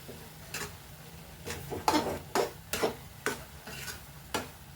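A thick adadiya sweet mixture is stirred in a pan, each stroke giving a distinct scraping, thudding sound. The strokes repeat in a steady rhythm about twice a second, close and clear, with no speech.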